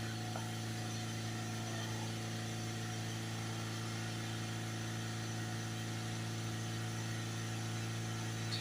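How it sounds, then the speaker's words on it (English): Diesel engine of a Ford Transit Custom with a blocked DPF, held steadily at about 3000 RPM, giving a continuous, even drone with a strong low hum and no pauses. "That's the revs on 3000 RPM there"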